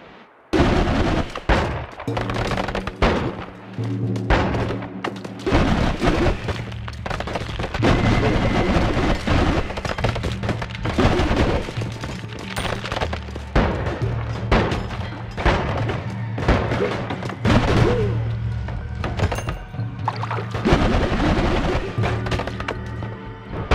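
Rockets exploding in the video game Noita, a dense run of booming, crackling blasts and debris thuds, loud and near, continuing almost without pause under busy game sounds.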